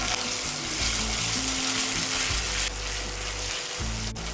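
Ginger paste fries in spiced oil with a little salt, giving a close, continuous sizzle and crackle with slight shifts in intensity and no talk.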